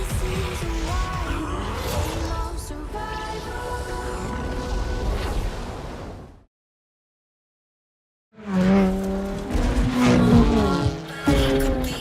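Racing cars in Forza Horizon 4 on Xbox One, engines droning loudly with music-like tonal layers and tire noise, cutting to silence for about two seconds before the racing sound returns.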